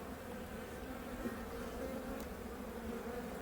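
Honeybees thick on the frames of a wild-swarm hive produce a dense, continuous buzzing drone, steady and close, with no voices.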